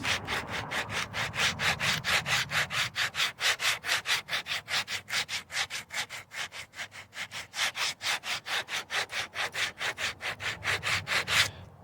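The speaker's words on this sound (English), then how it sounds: "I'm just gonna knock it down and try to stay off the other areas with this 80 grit" Bondo body filler on a rounded edge being hand-sanded with 80 grit sandpaper: steady rapid back-and-forth rasping strokes, close and loud, continuing evenly with no talk.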